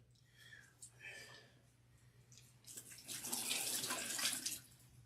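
Warm water runs from a portable sink during hair washing, starting as soft splashes and swelling to a steady, close gush, with a faint voice speaking quietly underneath.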